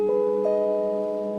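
A sustained chord with its middle note lowered, held steady and clear for over a second, with no talking.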